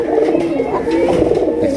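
Pigeons, including a male, cooing in a pigeon seller's loft, a low continuous throaty burbling from several birds at close range with a voice faintly mixed in.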